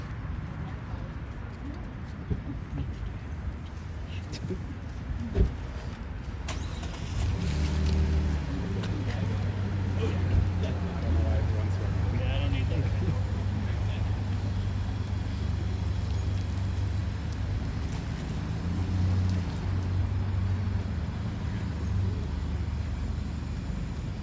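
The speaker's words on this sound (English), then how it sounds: "allow the neighbor to move his vehicle" A neighbor's vehicle is moved outside during a Guelph fire department press conference, heard as a low, steady engine rumble through the middle and later part, faint and distant, with pigeons cooing and murmured voices around it.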